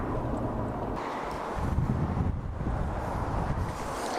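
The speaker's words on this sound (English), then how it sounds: "it's a little bit breezy today" Outdoor wind buffets a microphone beside a Nissan Skyline GTR R34 at a JDM car expo, making a low rumbling, gusty roar that swells and eases over a few seconds, with no speech.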